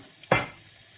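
Meatballs, twenty of them, go into a hot frying pan and sizzle in one short, loud burst of frying that fades quickly to a low hiss.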